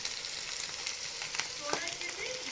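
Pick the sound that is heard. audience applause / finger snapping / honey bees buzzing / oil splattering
oil splattering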